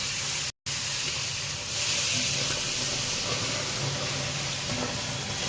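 Half a litre of milk poured slowly into a hot pan for Gujarati doodh pak gives a steady, close hiss with a soft steamy wash. It cuts out for a split second early on, then carries on evenly with no voices.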